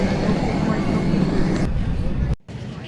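Airplane cabin noise while waiting to take off, a steady loud low rumble and hum that drops out abruptly near the end, with people talking over it.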